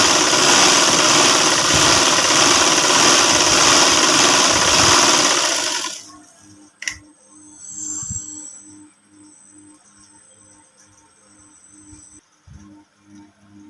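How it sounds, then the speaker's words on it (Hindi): A sewing machine stitching a ladies' cuff whirs loudly and steadily for about six seconds, then stops abruptly, leaving quiet handling clicks and faint rustling. "दूसरी पे भी ऐसे ही सिलाई लगानी है।"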